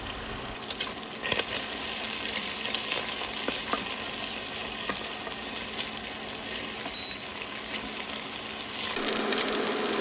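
Bacon frying in a pot as the base for a pork stew, a dense, continuous crackling sizzle that holds steady and loud throughout, with faint stirring and no voices.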